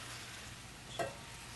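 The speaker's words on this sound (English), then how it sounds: "So we're going to have this simmer for about 20 minutes on medium heat, and we should have this covered at the same time." Tomato soup simmering in a covered pot over medium heat, giving a faint, steady hiss with one small click midway, alone and without voices.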